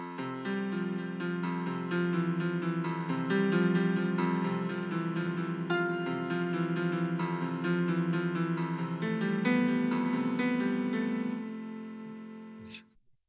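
Piano playing a flowing left-hand accompaniment pattern for texture, sustained and even, with a melody on top, then fading out at the end.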